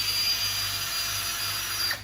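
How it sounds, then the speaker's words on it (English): A surgical drill boring a hole through bone, a steady high-pitched whine held close and loud for about two seconds before it cuts off. "they're going to drill a hole through that bone"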